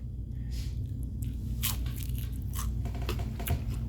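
Fried onion ring from a delivery order, still crisp, bitten and chewed up close; a few sharp crunches come in separate bursts over a low steady background hum, with no talking.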